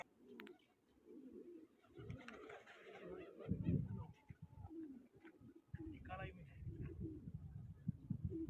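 Pigeons cooing at a pigeon flying competition in Taunsa Sharif, soft low repeated coos close by, mixed with people talking nearby.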